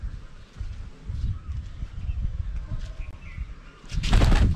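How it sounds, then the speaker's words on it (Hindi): Two pigeons on a rooftop, with soft bird sounds over low rumbling background noise, ending in a louder burst that suggests wings flapping. "छत पे आए हैं दो कबूतर"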